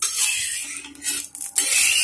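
A metal spoon scrapes and spreads cooking oil across a hot tawa griddle, producing sizzling hiss with a few short scraping strokes, close up and without talk.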